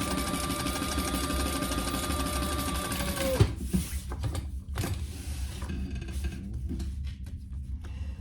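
A sewing machine stitches a crossbody bag in a rapid, close, motor-driven buzz that stops abruptly partway through, followed by a few handling clicks and knocks.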